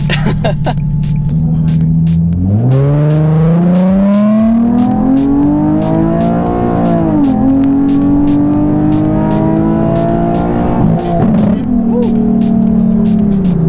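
A tuned Nissan 370Z engine revs up hard, its pitch climbing steadily through a long pull with a brief dip at a shift, loud and close, with voices underneath.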